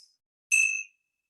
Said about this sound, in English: And let's close with the ringing of the bells.